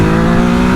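A Ducati Hypermotard 950 SP motorcycle engine drones loudly and close in a steady, rich rev for under a second.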